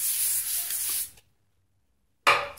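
Cooking spray hisses onto a sheet of parchment paper for milk cookies, a steady close spray lasting about a second, then a pause and a second short burst.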